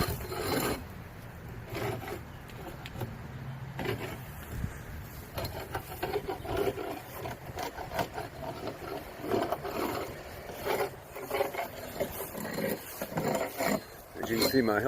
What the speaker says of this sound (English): my helper is starting the scraping process